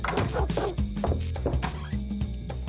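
A cartoonish dog in the video game Neighbours from Hell yips and barks repeatedly over busy game music and effects, moderately loud.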